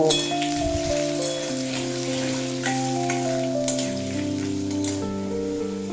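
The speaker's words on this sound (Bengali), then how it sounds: "আলু দিয়ে দেড় দু মিনিট মতো ভেজে নেব" Potatoes frying in a pan on medium flame for a Bengali vegetable curry, giving a steady soft sizzle with faint stirring, under a sustained background tone and no talking.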